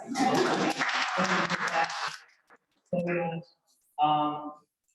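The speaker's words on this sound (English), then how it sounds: "yes, we can clap for that." An audience at a university symposium claps in a short burst of about two seconds; the clapping fades quickly and a voice then talks in brief phrases over a quiet room.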